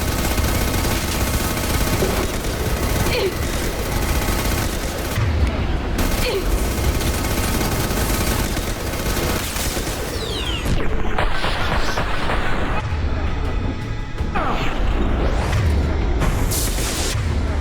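Dense, continuous gunfire with disruptor ammo in Mass Effect 2 while fighting a Ymir mech, rapid bursts and booms packed together, loud and close, with a voice speaking over the shooting.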